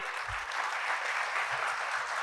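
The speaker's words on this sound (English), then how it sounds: "Let's give a round of applause, everybody." Steady, even applause fills a room at a corporate executive round table as a guest from a pharmaceutical company is welcomed to the stage. The clapping is continuous and moderately loud, with a few soft thumps underneath.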